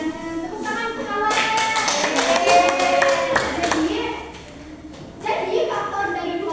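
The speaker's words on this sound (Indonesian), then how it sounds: "Tepuk tangan untuk kawan." Classroom of students clapping for a classmate: a burst of scattered hand claps, nearby and moderately loud, with voices chattering over it, fading and then rising briefly again at the end.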